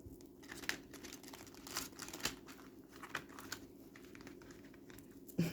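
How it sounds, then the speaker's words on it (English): A Tarot of the Owls deck is shuffled by hand, giving a steady run of papery crinkling and soft riffling card snaps, close and fairly quiet, with no voices. "I want to be absolutely sure that we're doing a good enough shuffle."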